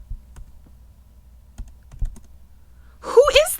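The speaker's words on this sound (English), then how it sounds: "She's typing." Sparse clicks of typing on a computer keyboard, scattered light taps at a distance in a quiet room, before a voice begins speaking at the end.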